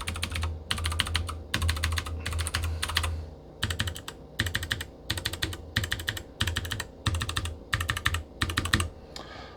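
Blue clicky switches, Gateron or Royal Kludge, clatter in steady bursts of rapid typing on a mechanical keyboard, close and crisp, each burst a dense run of sharp clicks separated by short pauses.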